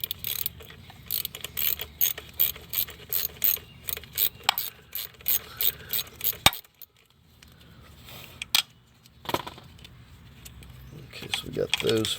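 A ratchet spins off a 10 mm bolt under a 2011-2016 Chevy Cruze, with rapid close pawl clicking in bursts, a short pause, then a few more clicks and clinks as someone talks.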